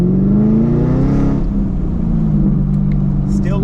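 A supercharged Chevrolet Camaro SS accelerates hard in second gear during a tuning run, its loud engine note climbing in a rising drone and then easing off, with someone speaking briefly over it.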